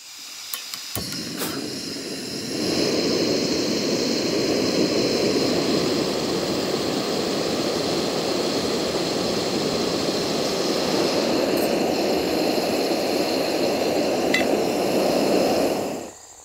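A Valtcan 1000ml titanium kettle heats water on a stove in a boil test. A few light clicks come first, then a loud, steady burner roar holds until it cuts off at the end.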